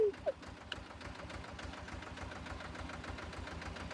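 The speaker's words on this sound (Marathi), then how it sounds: "मित्रांनो आता मी ट्रॅक्टर चक्कर मारतोय" A tractor engine runs steadily while being driven, a continuous low mechanical drone with a knocking pulse. It sits close and fairly even throughout, with a couple of brief higher squeaks near the start.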